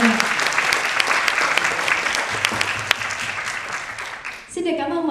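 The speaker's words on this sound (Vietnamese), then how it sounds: "Và tại sao chúng ta hãy không cùng nhau thêm những tràng pháo tay lớn hơn nữa để bắt đầu chương trình hôm nay được không ạ?" Sustained applause from an audience at a music video press conference, dense steady clapping that stops abruptly near the end as a voice begins to speak.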